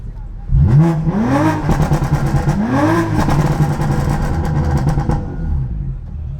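A 700 hp BMW F80 M3 running on E85 revs hard through a loud exhaust, rising and falling in two sharp sweeps before settling into a steady, rumbling drone, close and dominant with faint voices underneath.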